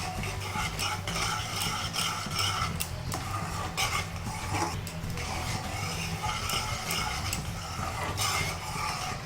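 Thick sugar syrup boils in a pan for sweet shakarpara (kathi bhaja) and is stirred steadily, giving continuous scraping, clinking and bubbling sounds at close range with no talking.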